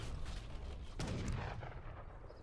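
Single heavy boom of cannon fire in Age of Empires III, loud and close, followed by a fading rumble amid quiet battle noise.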